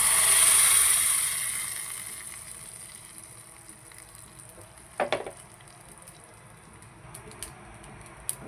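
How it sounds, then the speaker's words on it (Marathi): Dosa batter fries on a hot griddle with a steady, soft sizzling hiss that is loudest at the start and then fades, with a couple of faint clicks midway. "एका साईडला डोसे पण बनत आहेत।"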